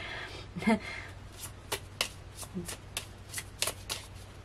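Tarot cards are shuffled nearby in a series of quick, crisp riffles and soft taps, spaced irregularly over a low background hum.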